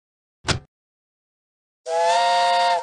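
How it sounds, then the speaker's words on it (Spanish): A short burst of noise, a pause, then a loud, steady multi-tone train whistle blast from a Curious George train station video game sounds for about a second, alone and close. "presiona el silbato del tren"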